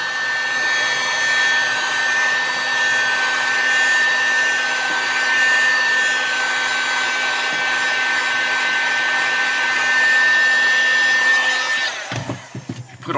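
A cheap heat gun warms the floor covering in a 1998 VW Beetle pickup cab, a steady close whirring blower with a high whine that runs evenly, then cuts off into a few handling knocks at the end.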